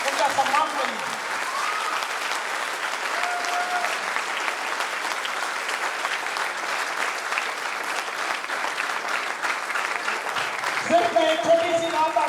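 An audience claps at an event held in Mughalsarai, India. The applause is sustained and fairly dense for about ten seconds, then thins out as voices and a bit of music come in at the end.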